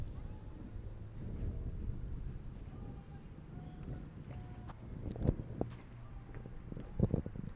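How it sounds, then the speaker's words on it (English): Wind gusts blow across an outdoor bowling green at a women's national bowls championship, a soft steady rush with buffeting on the microphone and a few faint knocks and clicks, growing a little stronger near the end. "It's a gust of wind."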